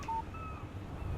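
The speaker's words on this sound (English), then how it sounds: "Text message from Barry." A short electronic chime from a phone text message alert in the Alan Wake video game, a brief clear tone over a low steady background hum, with no voices.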